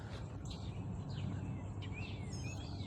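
Birds chirp and tweet on a quiet morning in a spacious grassy field, with several thin rising and falling calls scattered over a low steady rumble, faint and distant, with no talking.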